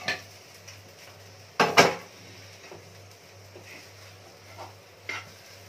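Coriander powder masala frying in a pan, with a couple of sharp clinks and scrapes of a spoon against metal standing out over a quiet, steady background hum, plus faint soft stirring scrapes scattered through the rest.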